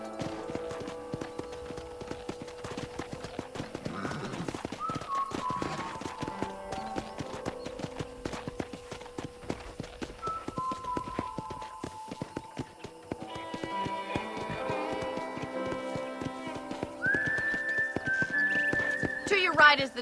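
Horse hooves clip-clopping steadily in Red Dead Redemption on Xbox 360, with occasional whinnies and background music, running under spoken dialogue for the whole stretch.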